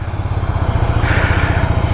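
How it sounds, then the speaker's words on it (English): Ducati Scrambler motorcycle with a Desmodromic twin engine idling close by, a steady low, pulsing throb that swells slightly in revs partway through, with no talking. "A Ducati Desmotronic engine might be expensive to maintain, but it does sound nice."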